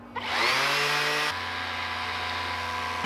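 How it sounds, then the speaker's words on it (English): A random orbital sander used for finishing a catfish tailspinner lure whirs up to speed with a rising buzzing whine, then settles into a steady, loud, close drone. "Random orbital sander."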